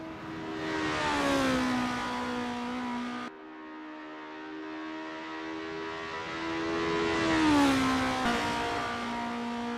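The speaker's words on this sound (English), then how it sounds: "As the sun beats down and the engines roar, Lars stakes a claim in 5th." In the racing game Assetto Corsa, formula race car engines whine loudly, rising and falling in pitch through repeated shifts and revs during a championship race.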